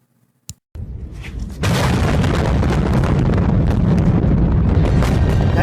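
Castle blown apart in an audio drama, a sharp pop and brief silence followed by a heavy boom that swells into a sustained, loud rumbling roar of collapse.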